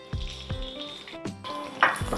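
Mustard seeds fry in hot oil alongside cumin, chana dal and urad dal, giving a close, steady sizzle broken by a few sharp pops and light stirring clinks.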